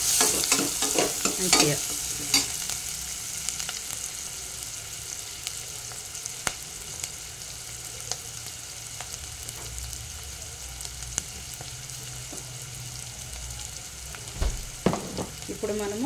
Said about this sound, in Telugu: ఉల్లిపాయలు మగ్గాలి. ఇవి బాగా మగ్గితే